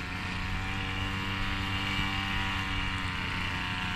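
A gas grass cutter engine runs steadily close by, holding a continuous, even droning whine with no pauses and no voices.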